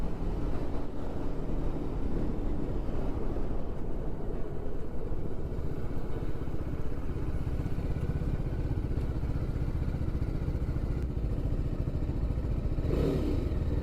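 BMW G 310 RR single-cylinder motorcycle rolling up to a traffic signal, a steady low engine drone and road rumble with a brief clatter near the end, fairly quiet and continuous, no speech.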